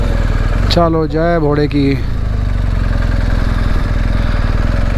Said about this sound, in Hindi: तो चलते हैं इसकी टेस्ट राइड लेने।